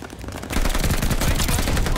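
MP40 submachine gun fire in Call of Duty Vanguard bursts in after a brief quiet moment, a loud rapid automatic rattle of close shots that continues without a break, with no one talking.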